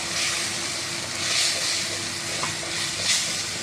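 A spoon stirs chili powder and turmeric into a cooking pot for a fish curry, with a steady sizzling, scraping texture and soft swells, close and fairly loud, no talking.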